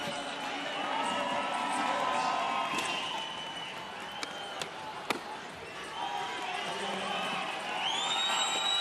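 Crowd at the SLS Super Crown Rio men's skateboarding final cheering and clapping, a busy murmur with scattered whoops, skateboard clacks and board slams, building to louder cheers near the end, with speech mixed in.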